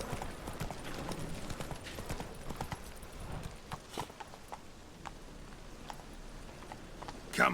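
Roach, the horse in The Witcher 3, clip-clops along at a walking pace, distinct hoof strikes sounding fairly close over a quiet background, with one louder knock at the end and no talk.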